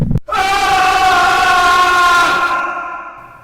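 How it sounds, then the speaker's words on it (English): A man lets out a loud, sustained yell of rage as he bursts into a room, a single harsh, strained cry lasting about two seconds that fades at the end, close and alone. "With a loud yell, I threw open the lantern and leaped into the room."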